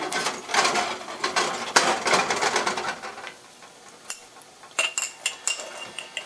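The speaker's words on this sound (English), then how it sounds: "So you can see the oil starting to bubble right now. So just mix the oil into the edges there." Oil being mixed around the edges of a carbon steel wok during seasoning, heard as dense scraping and clattering that thins into sparse, sharp clinks and scrapes toward the end, with no talking.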